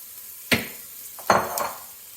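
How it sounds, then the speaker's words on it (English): Onions dropped into hot oil in an Instant Pot, with two sharp bursts of sizzling and stirring about a second apart over a quiet background hiss; no voices. "So we're going to throw in our onions."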